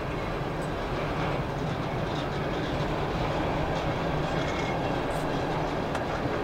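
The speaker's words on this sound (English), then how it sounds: "The symbol on this train here is CSX Q367." CSX freight train Q367 rolling past through snow, a steady, loud wash of rumbling wheels and rail noise that holds constant throughout with no voices.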